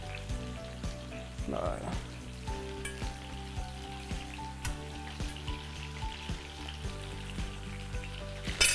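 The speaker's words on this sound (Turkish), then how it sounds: "Önce patlıcanları koyuyorum. Şöyle kenarlara yaya yaya koyuyorum." Eggplant slices laid around the edges of a hot pan for a Ramadan kebab sizzle steadily and close, with soft repeated taps and crackles as each piece goes in; a voice speaks briefly.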